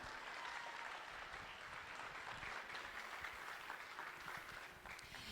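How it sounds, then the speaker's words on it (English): An audience at a 2006 scholarship pageant gives the contestants a round of applause, a steady, dense clapping that fills the whole stretch without pause. "Let's give all the contestants one last round of applause."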